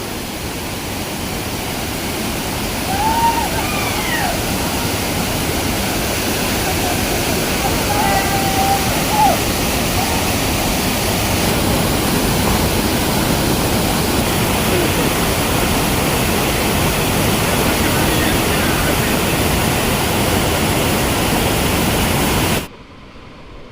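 A large waterfall on a Konkan stream pours down in a loud, unbroken roar that stays steady throughout, with faint voices barely showing above the rushing water.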